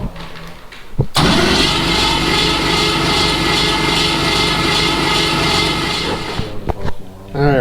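A car engine with no oil pressure cranks loudly on the starter in a steady, sustained grind for several seconds, close up, with brief clunks before and after and faint talk at the edges.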